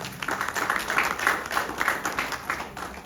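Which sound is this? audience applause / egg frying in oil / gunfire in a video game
audience applause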